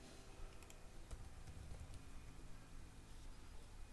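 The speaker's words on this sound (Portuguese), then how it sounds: "Vamos digitar ifconfig." Rapid, faint clicks of typing a command on a computer keyboard, an even run of keystrokes lasting several seconds in a quiet room.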